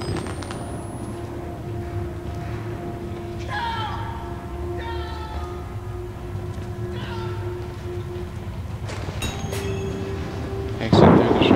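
Thunder rumbles low and steady in the horror game Outlast, with creaking, groaning tones on top and a sudden loud burst near the end.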